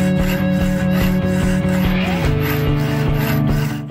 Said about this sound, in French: je vais le rattraper à la lime